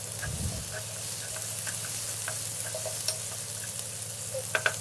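Cumin, green chilli and garlic leaves tempering in hot oil, a steady close sizzle and crackle with a few sharp pops and light stirring clinks, no voices.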